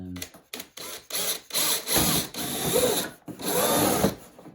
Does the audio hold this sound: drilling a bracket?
yes